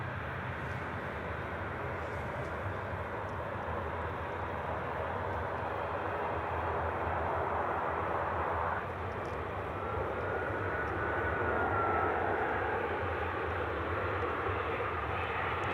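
A fixed-wing airplane roars past during live plane spotting under an orange evening sky, a steady broad engine rumble with a faint high whine that stays loud and continuous throughout, with no talking.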